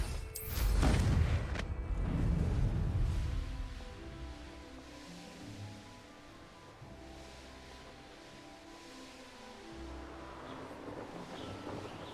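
Loud burst from the Confringo fire spell in Hogwarts Legacy, a sharp blast that swells and fades over a couple of seconds before low ambient game sound and a faint musical bed carry on alone.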